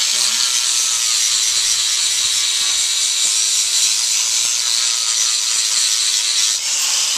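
A power grinder works over a horse's hoof during a natural barefoot trim, giving a steady, loud, high whirring grind with spray coming off it, continuous and close throughout.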